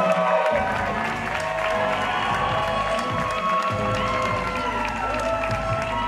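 A wrestling crowd at an Inspire A.D show applauds and cheers for Raychell Rose with a dense, continuous roar of clapping and voices, while a commentator talks over it.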